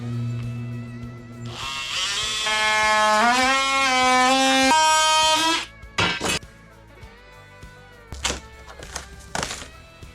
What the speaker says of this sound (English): if you've never used a multi-tool, you should definitely look into it. It's like a saw and a jigsaw all in one.